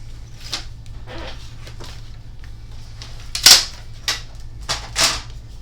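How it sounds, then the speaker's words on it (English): Paper cut to 4 inches on a Cricut paper trimmer, a series of soft clicks and brief scraping slides with a sharper swipe in the middle, quiet and close with no speech. "Just going to place it in my Cricut trimmer and trim that off."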